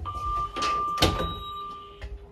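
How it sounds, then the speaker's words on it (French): Train doors close with a mechanical rush and a solid thunk, followed by a steady warning tone and fainter clunks as they seal. "Fermeture des portes."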